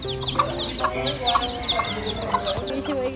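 Chickens on a farm cluck close by in quick, repeated bursts that overlap one another, set against a faint steady hum in the background.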